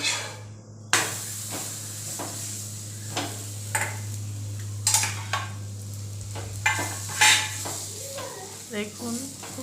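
Yogurt paratha cooking with butter on a hot tawa gives a soft, steady sizzle under a constant low hum, broken by scattered scrapes and clinks of a spatula or utensil.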